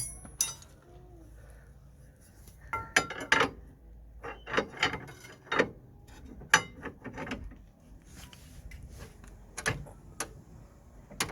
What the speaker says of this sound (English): we're gonna drive in the ball joint bolt